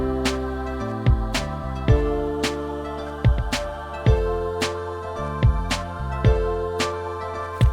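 Warm 808 bass sequence in a hip-hop beat: deep booming bass notes slide and sustain under punchy kick hits and melodic layers, playing at a steady rhythm with no voices.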